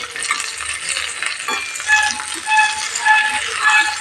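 Chicken pieces frying in a little oil, a steady close sizzle with intermittent stirring and scraping rattles in the pan, no talk.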